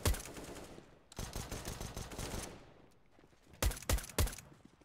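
Video game gunfire in bursts: a long stretch of rapid automatic fire, a short pause, then three heavy separate shots, loud and close.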